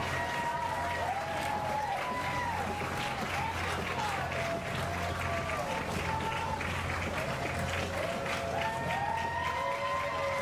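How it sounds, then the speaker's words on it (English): A parade crowd claps and cheers as Army National Guard heavy vehicles drive past, steady applause under an announcer's voice, with siren-like rising and falling tones and a low vehicle hum in the background. "Getting a rousing ovation here as they drive past."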